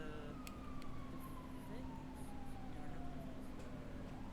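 A siren in Grand Theft Auto wails in a slow descending sweep, faint and distant beneath a dense, steady background hum.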